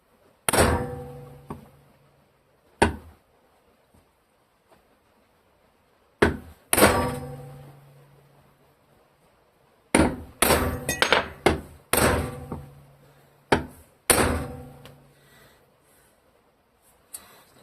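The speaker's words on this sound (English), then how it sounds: "Might just throw this on there and give it a couple whacks," A hammer whacks a metal part of a Bolens 38-inch tube frame mower deck, model 18418, with sharp ringing strikes in loose irregular bursts, single blows and quick clusters, close and loud with short pauses between.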